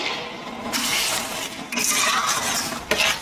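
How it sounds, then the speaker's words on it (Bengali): Spice masala being stir-fried in a pan, with a continuous sizzling hiss and scraping stirs that swell and fade, punctuated by a few sharper clinks of utensil against metal. "এবারে সব শুদ্ধ কষিয়ে নেবো ভালো করে।"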